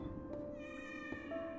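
A cat meows in the Giraffe and Annika video game, a short tonal call with a gentle rising pitch over soft background music.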